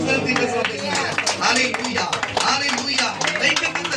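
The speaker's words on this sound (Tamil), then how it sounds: "என்ன ஒரு விசுவாச கைத்தட்டு உங்களுக்கு" A congregation claps together at a church gathering, a dense, fairly loud run of hand claps that keeps going for several seconds under a talking voice and other room sound.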